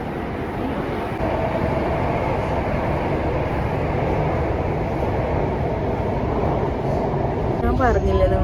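A Singapore metro train runs with a steady, loud rumble of wheels and motor heard from inside the carriage, continuous throughout, with a brief higher squeal near the end.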